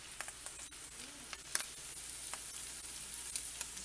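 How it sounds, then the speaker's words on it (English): Paprika and cumin toasting in a hot oiled pan give a soft, steady sizzle with faint crackles and pops, close and quiet, no talking. "I want to toast the spices that we put in for like 30 seconds."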